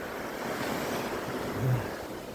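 Steady, broadband wash of surf breaking on a rocky shoreline at Namhae, South Korea, on a windy day, with a faint rumble of wind across the microphone and a slight swell near the end; no voices.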